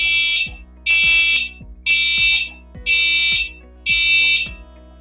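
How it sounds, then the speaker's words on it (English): Aquarium temperature alarm wired to a 24-volt circuit, sounding five loud, shrill electronic beeps about a second apart, each holding steady before cutting off, with a low hum underneath. "If my temperatures get too high or too low, this alarm will kick on"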